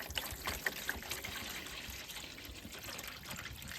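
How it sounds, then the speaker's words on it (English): White vinegar poured into a container, a soft continuous trickle of liquid with a few small splashes early on, close but quiet and with no talking. "we're just going to put some white vinegar in here for this job"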